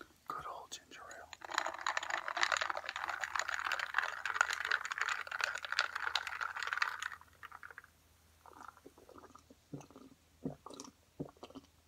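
Freshly poured ginger ale fizzes close up, a dense crackling hiss of popping bubbles lasting several seconds before fading, followed by quiet mouth sounds and soft whispered speech.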